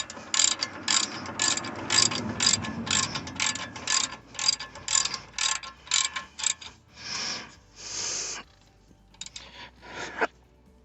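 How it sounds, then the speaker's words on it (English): A torque wrench ratcheting while working on the front brakes of a 2006 Ford F-150, with a close run of quick, evenly spaced clicks that slows into a few longer, separate ratchet strokes. "Take advantage of the torque wrench that we borrowed from"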